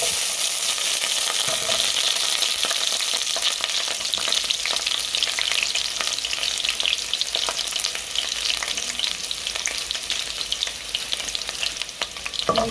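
Onion frying in a pot for a sweet corn and soyabean porridge, a steady loud sizzle running throughout with a few stirring scrapes and no talk.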